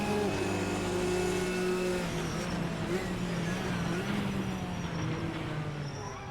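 Race cars in the Assetto Corsa racing game, GTN class, drive close together in a slipstream battle, engines droning loudly and steadily throughout with layered revving tones.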